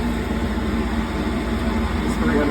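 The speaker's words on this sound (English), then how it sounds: "our exhaust fan's rolling on high" An exhaust fan runs on high in a home lab setup where silver and gold are recovered from e-waste, giving a steady, loud broadband whoosh and hum with no breaks.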